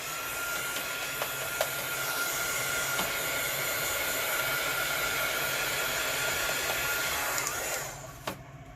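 A hair dryer blows steadily and loudly at close range while drying a napkin glued onto a junk journal page, then cuts off near the end.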